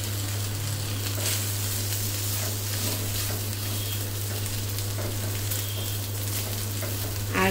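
Garlic paste and ginger paste fry and get stirred in a pan for a chicken pilaf, a continuous moderate sizzle with scraping stir sounds over a low steady hum, no voices.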